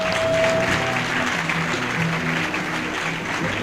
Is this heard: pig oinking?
no